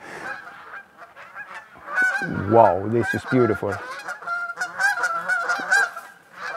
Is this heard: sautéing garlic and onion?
no